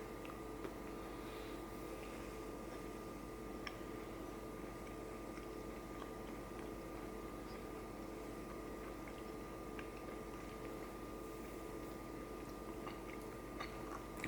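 Someone chewing a Millennium cherry energy bar, with soft, steady crunching and mastication close up but faint under a constant background hiss, no talking.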